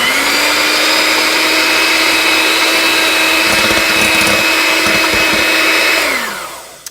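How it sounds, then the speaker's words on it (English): Electric egg beaters whip egg whites until foamy, a loud, steady high-pitched motor whine held for about six seconds with some rattling against the bowl, then winding down as it switches off. "Now I'm going to beat the egg whites until they're foamy."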